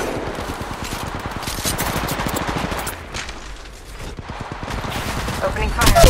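Continuous gunfire in the mobile shooter Apex Legends Mobile, dense overlapping shots crackling steadily throughout, with game voice lines and effects mixed in.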